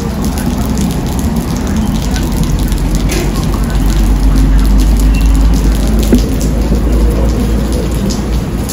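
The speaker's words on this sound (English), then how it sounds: "And it's raining, but thankfully I am under this" Steady rain falls outdoors during the rainy season and is heard from beneath a shelter as a constant, fairly loud wash of hiss and patter with no breaks.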